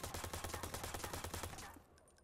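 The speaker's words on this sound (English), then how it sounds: "Yeah, there's some nut job shooting your gun." Rapid automatic gunfire from the Watch Dogs video game, a loud, sustained burst of closely spaced shots that stops abruptly near the end, leaving a fading tail.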